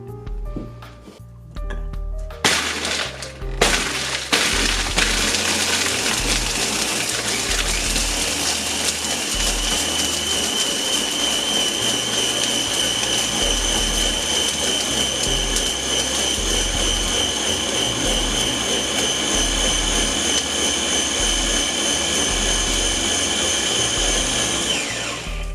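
A blender whirs steadily while crushing ice for a frozen strawberry daiquiri, starting with a few chunky rattles and then settling into a loud, continuous motor drone that holds for the whole stretch.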